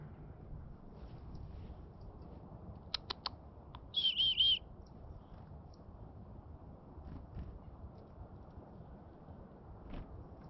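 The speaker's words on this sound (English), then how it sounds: "All kinds of birds around here." A small bird, likely a chickadee, gives a brief burst of high chirps at a reservoir after a few sharp ticks, mid-distance over a quiet low outdoor rumble.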